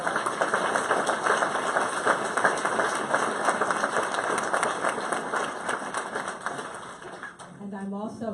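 An audience at a Long Island panel discussion on racism gives the panel a round of applause. The clapping is dense and sustained, then fades near the end as a voice begins to speak.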